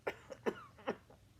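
A person coughs four times in quick succession, short and fairly soft, the last cough weaker than the others, in a quiet room.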